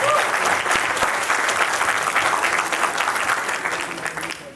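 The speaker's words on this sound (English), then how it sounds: "So big round of applause to all the volunteers" An indoor audience at a volunteer appreciation event breaks into sustained clapping, a dense, close round of applause that tapers slightly at the end.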